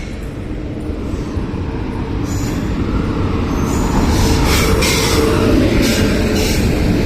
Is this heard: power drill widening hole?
no